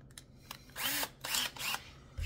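A drill countersinking screws into a pallet wood shelf, three short whirring bursts that rise in pitch, recorded faint and close with brief pauses between them.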